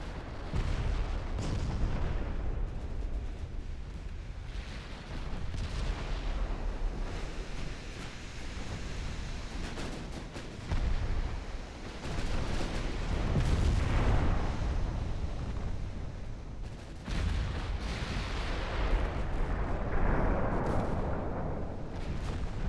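Naval artillery fire striking a battleship in a video game, a continuous roar of heavy booms, rumbling impacts and surging sea-like wash, loud and dense with no clear pauses.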